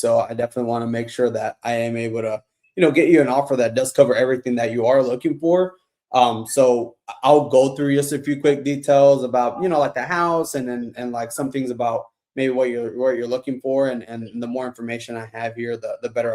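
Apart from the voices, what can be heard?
No everyday noises stand out.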